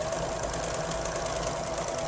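A sewing machine with a wing needle runs a continuous pin stitch attaching lace heading, a steady fast whir and needle chatter with no breaks, moderately loud and close, no talking.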